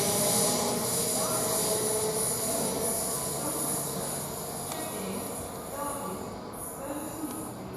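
A CrossCountry or similar service train runs from Newcastle towards London King's Cross through Durham station, a broad steady roar of rolling wheels and engine that eases slightly in level, heard from the platform with faint squeals.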